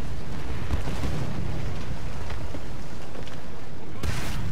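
A gun firing in the tank combat game War Thunder amid a dense, loud wash of rumbling battle noise, with a sharp, bright blast standing out near the end.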